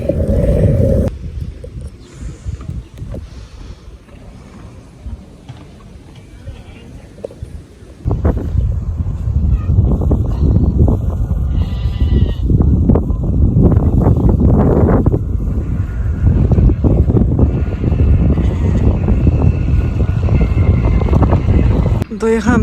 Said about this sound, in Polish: Ale ten wiatr jest straszny, bardzo silny.